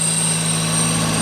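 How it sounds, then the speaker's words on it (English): A steady high-pitched whistle from a car's air control valve rides over a constant engine hum, unbroken and fairly loud for the whole brief moment. "You're wondering what that noise is? It's that air control valve."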